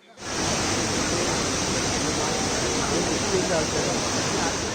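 A torrent of floodwater swollen by heavy rain rushes near a waterfall, a dense, steady roar that starts abruptly and holds loud and unbroken throughout.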